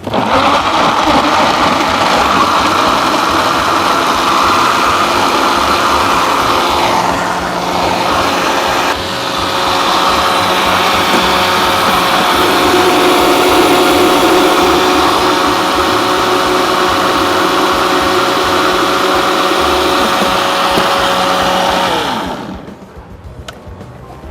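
A blender whirs loud and steady, grinding carrot and mango with honey and milk into a smoothie, its pitch shifting slightly midway before the motor cuts off near the end.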